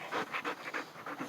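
A pet dog pants quickly and rhythmically up close, a string of soft breathy puffs with no other sound, fairly quiet.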